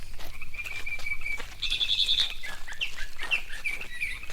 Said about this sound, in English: That's the call of a mockingbird.